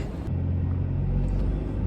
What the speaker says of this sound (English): So, we're in a traffic jam already.